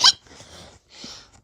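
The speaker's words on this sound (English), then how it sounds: "those hiccups aren't gone" An animated character named J hiccups once, sharp and close, followed by a couple of soft breathy sounds.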